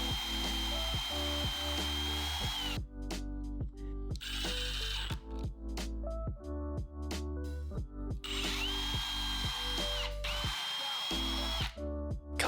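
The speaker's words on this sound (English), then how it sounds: "I did drill a few screws into the pieces just to hold everything together while the glue dried." A power drill drives screws into glued wood pieces, several loud whirring bursts close by, each rising and stopping with ratcheting clicks between runs and no talking.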